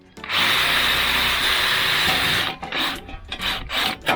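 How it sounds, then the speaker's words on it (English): A power drill bores a hole through a metal box gutter, a loud continuous grinding whine lasting about two seconds, then breaking off into short scraping and rattling bursts. "let's see if we can drill them."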